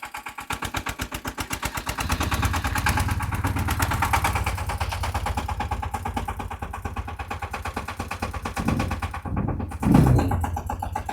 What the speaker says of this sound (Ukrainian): Працює він досить тихо. Зараз у нас близько 1200 обертів, показує тахометр.